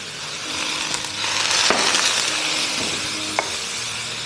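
Scallops sizzle in a hot wok after aromatics of garlic, shallot and ginger, with cooking wine splashed in; a steady hiss with a couple of sharp clinks and stirring sounds.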